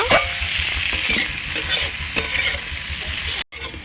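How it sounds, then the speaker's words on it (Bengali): Potatoes frying in a pan for a Bengali-style bata fish curry, with a steady loud sizzle and repeated scraping stirs of a spatula throughout, then a brief cut near the end. "তো আমার আলু ভাজা হয়ে গেছে"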